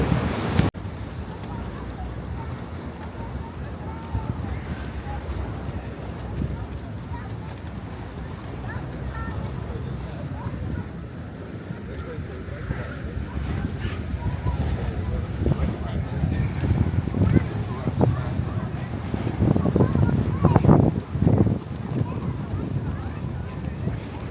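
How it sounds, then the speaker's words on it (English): Strong wind gusting across an open deck at a cruise port on Coco Cay, roaring and buffeting the microphone steadily and growing louder toward the end, with people talking underneath. "the wind is whipping"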